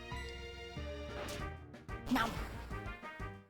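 A Pokémon's growl cry in the handheld game Pokémon HeartGold, a short harsh electronic burst over looping game music, fairly loud and close with no talking.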